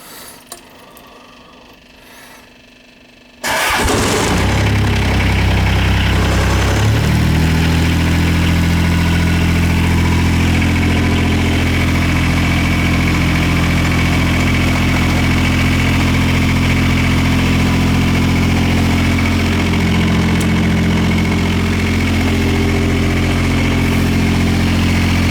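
John Deere 430 diesel lawn tractor. After a few quiet seconds the engine cranks and catches, then settles into a loud, steady idle that runs unbroken for about twenty seconds.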